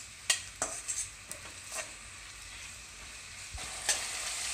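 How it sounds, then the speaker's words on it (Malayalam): Chopped onions hitting hot fried coconut oil in a pan while making Kerala-style fish pollichathu, giving a steady frying sizzle broken by a few sharp stirring clacks near the start and end. "നല്ല ചൂടായിട്ടുണ്ട്, നമുക്കതിലേക്ക് സവാള ഇടാം."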